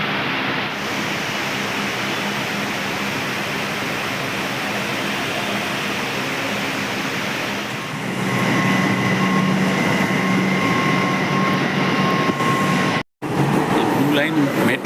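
A Kolkata metro train rumbles through a station as a loud, continuous roar that swells after the midpoint, with a faint steady whine above it and a brief sharp cut near the end.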